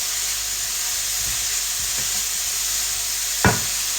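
Country chicken sautéing in a hot pan with cinnamon and chili powder, a steady hiss and sizzle broken by a few soft stirring scrapes and one sharper clack near the end.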